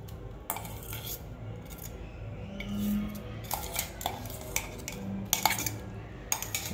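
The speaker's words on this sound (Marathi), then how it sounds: "पेस्ट पण यात मिक्स करून घ्यायची आहे" Grated pumpkin being mixed with spices and a ground chili-garlic paste in a bowl, heard as light, close clinks and scrapes of a metal spoon against the dish in an irregular rhythm, with no talking.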